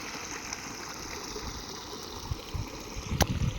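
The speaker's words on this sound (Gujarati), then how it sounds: "જો આ રીતે પાણી જાય છે અહીંથી આમ, પછી અહીંથી આમ" Irrigation water running along channels through a field of wheat, a steady trickling gurgle heard up close, with a few brief splashy bumps near the end.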